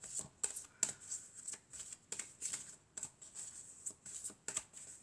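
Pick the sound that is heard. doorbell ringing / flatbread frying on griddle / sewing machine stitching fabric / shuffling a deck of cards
shuffling a deck of cards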